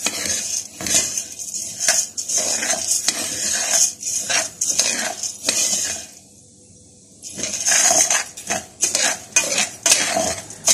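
A spoon scrapes and clinks around a steel pot while wheat kavurga fries in butter, with repeated rhythmic stirring strokes, a short quiet pause midway, then brisk stirring again, close and loud.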